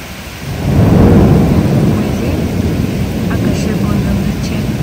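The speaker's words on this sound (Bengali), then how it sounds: "খুব জোরে বৃষ্টি হচ্ছে।" Heavy night rain pours in a loud, steady roar with low rumbling thunder swelling early on, continuous throughout without any talk.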